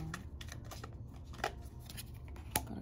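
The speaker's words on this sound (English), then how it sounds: "Let's start shuffling here." Tarot cards being shuffled by hand during a reading, a quiet run of soft riffling and flicking with a few sharper snaps near the middle and end, close up, no talking.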